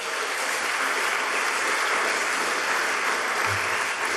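Sustained, dense applause from an audience at a 2018 political campaign speech in French Polynesia, loud and steady throughout, with no speaking over it.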